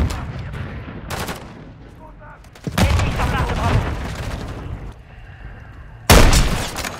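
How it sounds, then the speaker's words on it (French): Loud bursts of gunfire and a booming blast ring out in a Modern Warfare 3 multiplayer match as a flashbang grenade is thrown, with heavy rumbling explosions and a voice briefly heard between them. "Je lance une grenade paralysante!"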